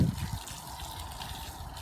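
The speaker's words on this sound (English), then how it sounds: "So after I throw the gypsum, I just water it in" Water runs from a hose onto garden soil that has been dusted with gypsum, a steady close gushing and trickling that continues for a brief moment with no talk.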